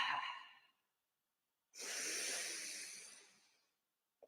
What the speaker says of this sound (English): we're going to inhale and exhale with the mouth open